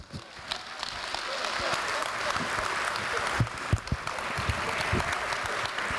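An audience gives Professor Andrzej Frydrychowski a steady round of applause after his allergy lecture in Poznań. Individual claps stand out sharply within the sustained, moderately distant clapping, with no talk over it.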